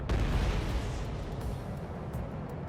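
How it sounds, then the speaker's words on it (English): A missile launch in the Ace Combat 7 combat flight game, heard as a loud, sustained rumbling roar that holds steady throughout, dense and booming, with no voices over it. "missile launch"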